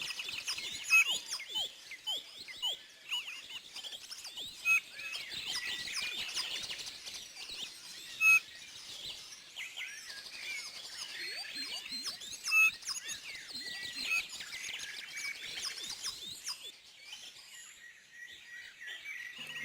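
A Eurasian bullfinch sings with thin, soft piping chirps and short whistled notes, repeated irregularly at moderate distance throughout, with no voices.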